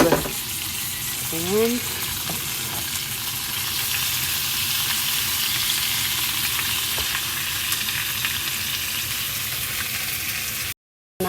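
Sautéed ingredients for caldereta hit the pan and fry with a steady, close sizzle, with a brief stirring scrape near the start; a voice speaks briefly over the frying.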